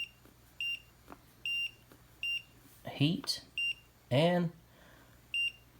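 Battery-powered rechargeable cooking lunchbox timer sounding a run of short, evenly spaced electronic beeps, close and fairly loud, with a person talking between them.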